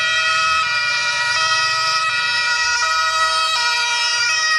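A white toy ambulance siren gives a steady electronic two-tone wail, loud and close, cycling evenly throughout with no talking over it.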